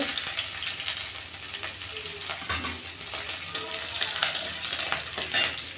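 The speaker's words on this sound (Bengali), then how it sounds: "এখন আমি রসুন দিয়ে দেব" Garlic dropped into hot oil in a kadai for jute leaf greens crackles with a dense, bright sizzle, broken by several knocking stirs of a spatula, close and uninterrupted by voices.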